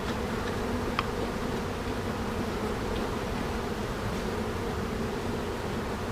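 Honeybees buzz around a hive in a steady, continuous drone at moderate volume, close and unbroken, with faint rustling underneath.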